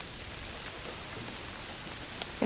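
Rain falls steadily in an Indiana Jones and the Great Circle cutscene, a soft, even hiss of drops on surfaces with a couple of brief taps near the end and no one speaking.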